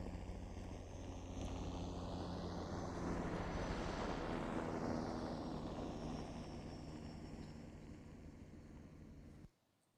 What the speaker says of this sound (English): that helicopter flyby seemed familiar to me, and we can listen to it alone.